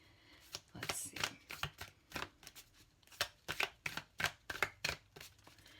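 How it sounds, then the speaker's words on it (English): Thick oracle cards being shuffled, about a dozen crisp papery riffles and slaps in an uneven rhythm, close up and fairly quiet, without talk. "Let me try to shuffle vertically."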